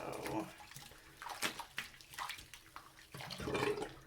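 Water splashes and sloshes in bursts as a stuffed toy is rinsed in a tub or sink, with irregular gushes and drips up close and a faint voice in places.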